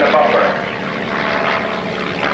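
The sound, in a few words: aerobatic airplane engine at 1989 Red Deer airshow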